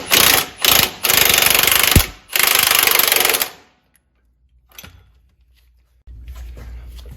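Loud bursts of a powered impact wrench driving a 15/16 nut onto a Jeep JT/JL lower control arm bolt, several rattling runs with brief gaps, followed by quieter clanks and a low background rumble.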